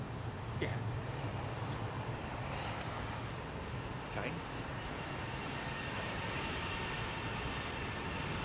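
Aircraft engines roar steadily at London Heathrow Airport runway 27R, a broad continuous rumble with a few faint higher tones, loud and sustained throughout.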